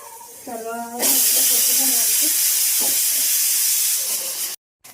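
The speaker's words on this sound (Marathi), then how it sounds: "तर शिट्ट्या व्हायला लागल्यात कुकरच्या." A pressure cooker cooking rice lets out a loud, sustained steam whistle that hisses steadily for several seconds, cutting off abruptly near the end, with a voice speaking briefly before it starts.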